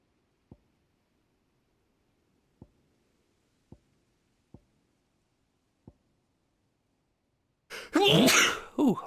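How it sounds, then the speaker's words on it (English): A single loud, close sneeze bursts out near the end, after several faint, sparse clicks in an otherwise quiet room. "Ooh, bless you."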